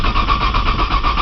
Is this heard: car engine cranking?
yes